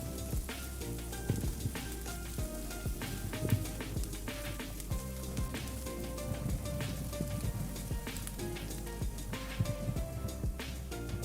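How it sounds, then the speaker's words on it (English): Ginger garlic paste fries in hot oil, giving a steady close hiss and crackle with scattered small pops and some light stirring, unbroken and free of talk. "Fry the ginger garlic paste until the raw taste of ginger garlic goes away"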